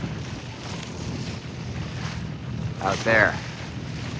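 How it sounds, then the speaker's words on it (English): A sailboat motor sailing on Lake Erie, with a steady low engine drone under broad wind and water wash; a person speaks briefly near the end. "we've decided that we're motor sailing now"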